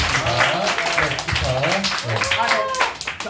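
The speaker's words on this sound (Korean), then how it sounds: "우리 다시 한 번 더 우리 환영의 박수 또 드리겠습니다" Crowd applause with scattered clapping mixed under lively talk and background voices, steady throughout.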